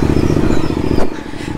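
A motorcycle engine runs loud and close on a sandy road, a steady rumbling drone with a brief surge near the end and no talk over it.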